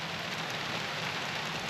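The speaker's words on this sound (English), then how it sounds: "it started raining" Rain falls steadily at a mountain camp, a dense, even hiss of drops with no pauses or voices.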